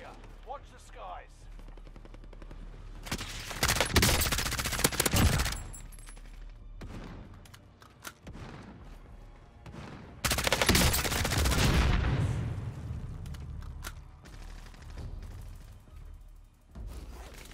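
Bursts of automatic gunfire and heavy shooting in the video game Call of Duty: Modern Warfare, loud clusters of shots around two separate peaks with a quieter stretch of battle noise between them.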